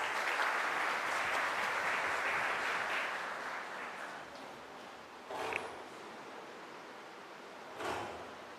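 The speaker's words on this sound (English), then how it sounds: "Please give him a huge round of applause." A hall audience at a medical college white coat ceremony gives a round of applause that rolls steadily, then thins and fades out after about four seconds, leaving quiet room tone with a couple of brief knocks.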